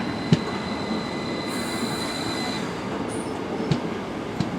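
A Class 333 electric train on the Settle and Carlisle Railway runs with a steady rolling hum and whine from inside, broken by occasional sharp rail-joint clicks, with no talk.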